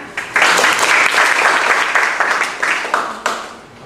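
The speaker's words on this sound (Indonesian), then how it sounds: "Tepuk tangan." Audience applause at a university lecture, a loud sustained burst of clapping that swells quickly, holds, then tapers off near the end.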